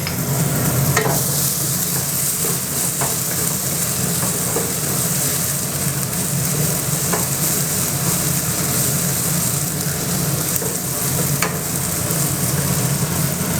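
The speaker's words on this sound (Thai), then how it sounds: "ผัดให้หอมก่อนนะครับเพื่อนๆ" Chilies stir-fry in hot oil for Thai basil squid, a dense, loud, constant sizzle with faint utensil scrapes now and then, close up with no speech.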